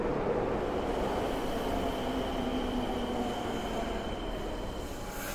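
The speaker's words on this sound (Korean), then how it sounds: "드디어 전철이 굉음을 내며 홈으로 들어왔고 문이 열렸습니다." A subway train rolls into a station platform with a steady, loud rumbling roar and faint high wheel whine, continuous and close throughout, with no voices.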